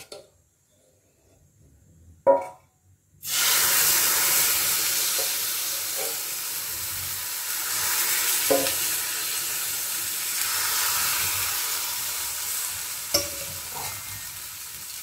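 Rice-flour batter for sharu chakli pitha hits a hot pan and breaks into a loud, steady sizzle, with a few soft clatters in the quiet moments just before.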